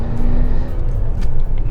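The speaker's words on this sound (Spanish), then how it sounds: "además tenemos un motor V8 con un empuje bestial" A Porsche turbo V8 engine accelerating in a classic car, a steady, loud, dense engine roar with a low droning hum that holds throughout, close and continuous with no talk over it.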